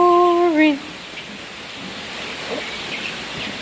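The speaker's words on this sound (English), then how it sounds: "It's a rainy day." Steady rain falling outdoors at a poultry farm on a wet day, a soft continuous hiss of drops. A sung note fades out at the very start before the rain continues alone.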